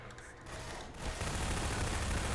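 Half-Life 2 video game gunfire, a dense, continuous barrage that grows louder after the first second and stays steady and close.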